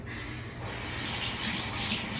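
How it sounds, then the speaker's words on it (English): Tap water runs steadily over a damp Real Techniques beauty blender sponge, a continuous close splashing hiss with no speech. "I'm just gonna run it under the water"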